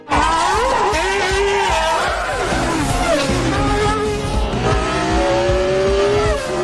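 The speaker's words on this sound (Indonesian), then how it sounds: "balapan pun dimulai." Race cars roar loudly through a circuit race with engines revving and shifting in pitch and tires squealing, forming a continuous, close, intense din.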